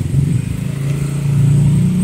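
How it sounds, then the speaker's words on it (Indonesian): Motorcycles and car engines pass along a busy main road, a steady loud traffic drone with a rising engine rev toward the end, heard close with wind noise and no talking. "makin banyak suara motor, mesin, angin juga"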